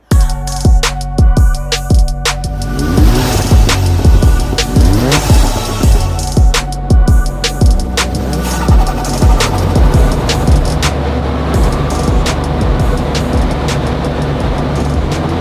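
A tuned stage 3 Audi S1 engine runs on a dyno, loud and close throughout, with repeated sharp revving sweeps rising and falling and a steady mechanical drone underneath, with no talking.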